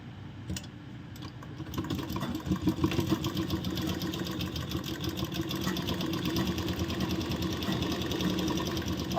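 A sewing machine runs continuously while stitching the crotch seam of ladies' pants, a dense rapid mechanical whirr with fast needle clatter, close and steady throughout, with no talking.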